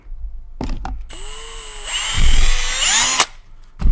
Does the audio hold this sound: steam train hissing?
no